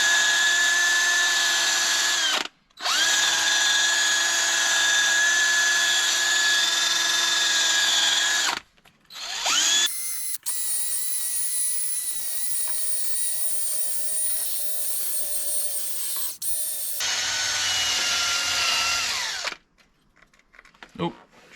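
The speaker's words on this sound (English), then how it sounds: "we're going to hit this stuff underneath here with the wire wheel" A cordless drill fitted with a wire wheel scours rust from the underside of a Mercedes ML430, whining loudly in long sustained bursts that stop briefly between passes and trail off near the end.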